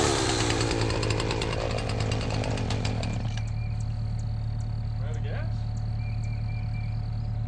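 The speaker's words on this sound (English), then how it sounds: "I don't know why this Husqvarna is like that. It's hard to start after you set it down for a second." A Husqvarna chainsaw runs loud and close for about three seconds, then cuts out, leaving a steady low hum and insect chirps in the open field.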